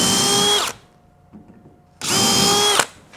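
A power drill fitted with a 5/32 bit opens rivet holes in an aluminum Lowe jon boat hull, two loud steady whirring bursts with a quiet pause between them and a brief bite as the bit catches near the end.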